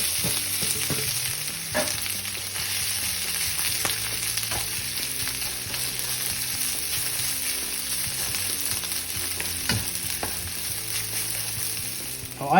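Garlic and rice frying in oil and butter in a cast iron skillet, with a loud continuous sizzle and occasional scraping stirs and clinks close up.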